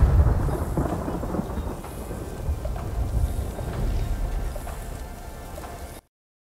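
Deep thunder rumbles through a stormy scene in the video game Ghost of Tsushima, with a dense bed of steady rain and low booming swells that hold loud for six seconds before cutting off abruptly. No voices.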